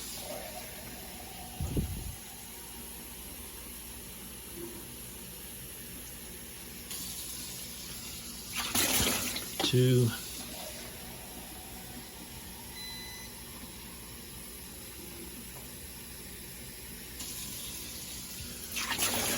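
Water is poured into the tub of a GE dishwasher in a few short splashing bursts, close and fairly quiet, with a man counting aloud between pours.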